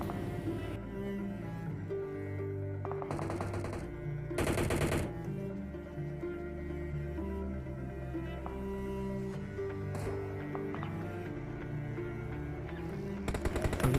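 Automatic weapon spray in a battle royale game, a few short bursts of gunfire cutting through steady in-game background music and ambience, moderately quiet, no talking.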